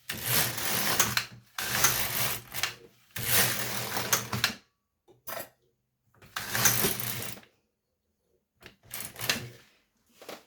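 An LK150 knitting machine carriage is pushed back and forth across rows of needles, giving repeated broad mechanical clattering sweeps of a second or two each, separated by short pauses, close and fairly loud with no talking.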